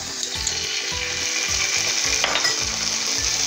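Garlic fries with browned onion in a pan, giving a steady close sizzle broken by a rhythmic scraping of stirring against the pan.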